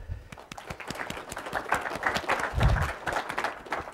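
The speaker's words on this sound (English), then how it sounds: "So I want you to give yourselves a quick round of applause." Students at a spring class welcome session give themselves a quick round of applause, a lively burst of many hands clapping at close to moderate distance, swelling slightly toward the middle with a few louder thumps.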